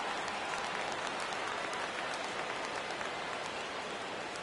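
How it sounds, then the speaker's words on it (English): A baseball video game crowd on PS4 roars in a dense, steady wash of cheering and clapping at a full count, sustained and fairly loud throughout. "Crowd gets up for the 3-2."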